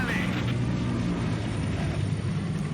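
Military aircraft pass overhead in S.T.A.L.K.E.R. 2, a continuous low, rumbling engine drone that holds steady and fairly loud across the whole moment.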